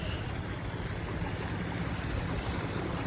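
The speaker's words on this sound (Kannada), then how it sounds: "ಹೊಳೆ ಕಪಿಲಾ ನದಿ ತುಂಬ ಚೆನ್ನಾಗಿದೆ" Water of the Kapila river rushes along a channel near a temple outside Mysore, a continuous broad roar that is close and steady, with no talking.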